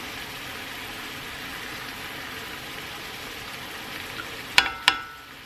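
Shrimp frying in a 12-inch Lebof 5-ply heavy-duty stainless steel pan give a steady close hiss and crackle throughout, with two sharp metallic clanks near the end.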